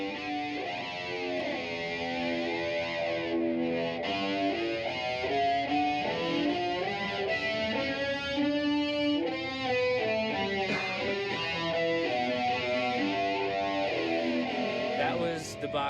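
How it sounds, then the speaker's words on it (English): An electric cello with heavy, gritty distortion plays Bach's Cello Suite No. 1 at Burning Man, a sustained, flowing melody of shifting notes, loud and continuous with no talking. "This is the electric cello."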